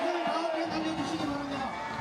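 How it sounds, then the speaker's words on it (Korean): A large crowd of citizens shouts together at a reenactment of the March 1st independence movement in Daegu, a dense, sustained wash of many voices close by. "독립의 함성이 다시 울려 퍼집니다"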